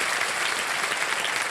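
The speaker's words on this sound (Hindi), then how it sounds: "तालियां बजती रहें इनके लिए," Sustained applause from a game-show studio audience for a contestant, a thick, uniform patter of many clapping hands at a steady level with no voices.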